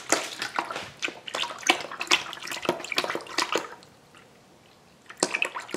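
Epoxy resin poured into a penny-covered table mold, a steady liquid trickle and splash that runs for several seconds, pauses briefly, then resumes close and clear.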